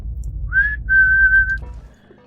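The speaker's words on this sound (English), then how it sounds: "Off-key whistle trailing behind him." An off-key whistle from a character in the Pillars of Eternity video game: two wavering, slightly sour notes, a short rising one followed by a longer held tone. Near and clear over a low background hum.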